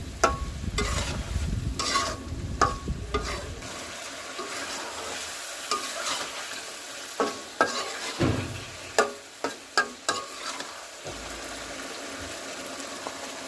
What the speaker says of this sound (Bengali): মাছগুলো দিয়ে কষাবো, মিনিট দিয়ে কষিয়ে নেব।